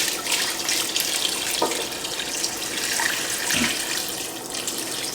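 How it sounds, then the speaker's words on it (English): Water steadily pours into a pot of roasted turkey bones for a dark giblet gravy, a continuous close splashing stream with a couple of brief glugs, no talking. "I'm going to add about a half a gallon of water to this."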